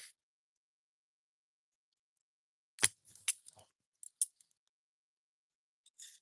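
Sewing scissors tested after sharpening, snapping shut in a cluster of sharp metallic cuts and clicks after a long silence, then a few more scattered snips near the end, close and clear with no talking.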